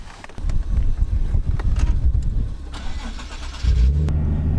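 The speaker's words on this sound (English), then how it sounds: "So this is my 2011 Nissan 370Z." A 2011 Nissan 370Z sports car on the move, its engine note mixed with wind and road noise, rising and falling, then a steadier, louder drone toward the end.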